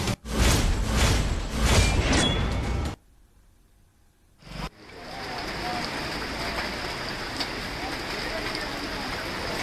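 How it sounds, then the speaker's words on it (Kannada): Heavy rain pouring during a downpour with flooding in Ramanagara, Karnataka, a loud broadband hiss that drops out briefly partway through, then returns as a steady rushing wash. "ಎಲ್ಲಾ ಕಡೆ ಈಗ ಸಾಕಷ್ಟು ಮಳೆ ಸುರಿತಾ ಇದೆ."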